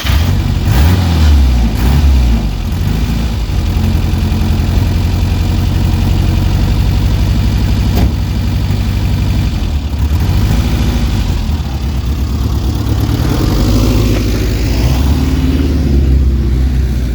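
A car engine idles loudly and steadily right after a jump start from a jump pack, rumbling close by with a slight rise in revs near the start.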